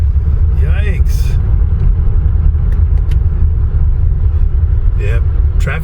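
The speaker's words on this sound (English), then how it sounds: "This is rush hour traffic." Rush hour road traffic on a winter afternoon in Idaho, a steady low rumble of cars and buses filling the whole stretch, with a few brief higher whooshes of passing vehicles and a voice heard over it.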